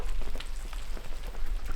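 Rain patters steadily at a remote van campsite on Vancouver Island, a soft, dense hiss of drops on surfaces with occasional sharper taps, fairly quiet and continuous.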